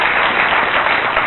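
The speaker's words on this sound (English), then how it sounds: "It's a short hand clap, just for you." Brief burst of crowd applause, many hands clapping densely and evenly for a second or so, steady and fairly loud with no talking.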